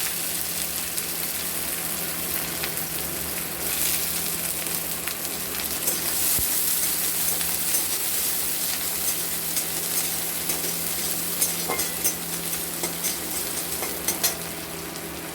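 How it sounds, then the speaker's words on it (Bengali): Chopped onion sizzles steadily in hot oil in a home kitchen, frying lightly while a Bengali banana-flower chop is being made. Faint stirring clicks rise above the constant, moderately quiet hiss, and nobody speaks. "এবার ওই তেলে আমরা দিয়ে দেবো একটা পেঁয়াজ কুচি।"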